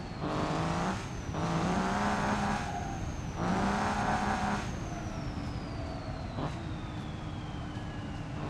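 In BeamNG.drive, a second-generation truck's engine revs up in bursts with a rising turbo whine, then settles into a steady, fading whistle as the revs drop.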